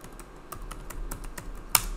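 Computer keyboard typing while entering an issue name in Jira, a run of light, evenly spaced key clicks with one sharper keystroke near the end, close and clear over a quiet room hum.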